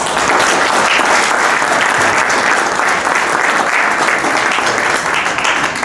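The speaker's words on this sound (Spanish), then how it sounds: "Vamos a darle por favor un caluroso aplauso." Sustained, dense applause from a seated audience thanking three panelists at the close of a conference session on industry and development in Cajamarca, steady and loud throughout with no speech over it.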